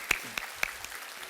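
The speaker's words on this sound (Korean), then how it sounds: "교회의 모든 성도님들과 목사님께 감사의 박수를 드리겠습니다." A church congregation in Seoul gives a few faint, scattered claps of thanks at a Sunday service, with several distinct hand claps early on that quickly thin out and fade.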